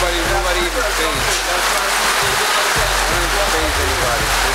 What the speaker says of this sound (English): Out there in the rain.